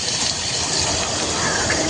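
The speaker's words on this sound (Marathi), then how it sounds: "थोडंसं पाणी घालून घेऊया थोडंसं पाणी घेतलंय" Water poured into a pot of village-style pigeon pea (tur) pulao makes a brief, continuous gushing splash close by, steady for about two seconds with no talk over it.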